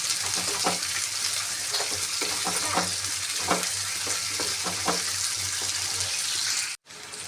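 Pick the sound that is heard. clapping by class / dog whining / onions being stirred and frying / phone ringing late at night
onions being stirred and frying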